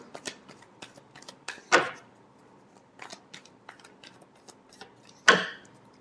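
Tarot cards are handled and shuffled up close, giving scattered soft taps and light flicks with two sharper, louder slaps as the deck is squared or struck.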